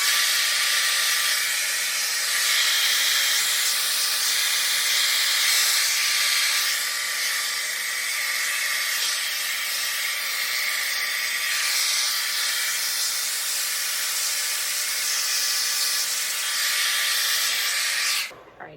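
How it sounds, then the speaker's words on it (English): A hair dryer with a diffuser attachment blows over curly hair in a steady, loud, broad hiss that holds unchanged for nearly nineteen seconds before cutting off abruptly at the end, with no voices. "so far I've just kind of been diffusing at my roots, just kind of all over my hair, hover diffusing"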